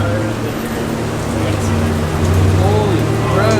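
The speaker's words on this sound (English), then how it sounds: "I thought it was just going to be a thunderstorm. it's gonna rain a little bit." Rain falls steadily at a Formula Drift event in Englishtown, a dense, constant hiss that swells slightly toward the end, with faint voices and tonal background noise underneath.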